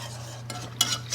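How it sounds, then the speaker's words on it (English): Spoon stirring sugar and cornstarch in a pot on a medium stove while making lemon tart filling, soft scraping and clinking strokes over a steady low hum, with a couple of sharper metallic taps near the end. "you want to stir this the whole time"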